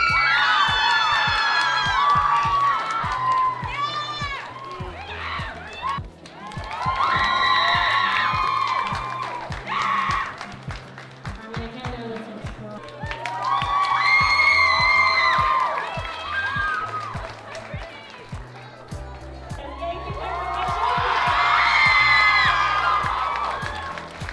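A crowd at an anime convention cheers, whoops and applauds winners, children's shrill shouts rising in repeated loud swells over continuous clapping, with voices mixed through the din.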